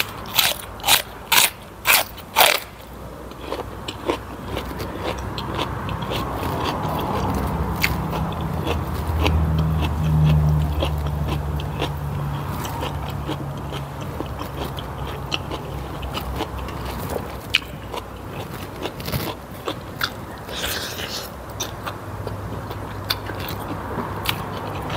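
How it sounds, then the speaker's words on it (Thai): Crispy pork cracklings crunched while eating a Thai pounded shrimp salad, giving rapid loud bites at the start, then steady chewing crackle and crunch under a low continuous background. "กรอบดีจ้ะขนาดตำใส่น้ำตำส้มด้วยนะ"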